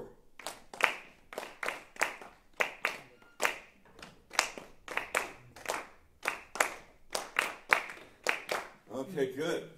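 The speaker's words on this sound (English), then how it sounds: "Go ahead, clap it out." Students clap out a rhythm together in a masterclass, producing sharp, evenly spaced hand claps in small grouped patterns. The claps are close and distinct, with brief pauses between phrases, and a short noisy stretch at the end.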